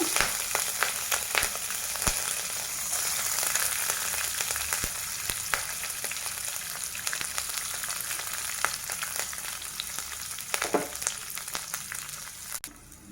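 Beetroot and green chillies fry in a pan with a steady, close sizzle and scattered small crackles throughout, with no voices.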